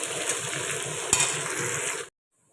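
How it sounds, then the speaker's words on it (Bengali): Onion frying in a pan with bay leaves, a loud steady sizzle with one sharp clink of a utensil midway, cutting off abruptly near the end. "একটু ভাজা ভাজা হোক।"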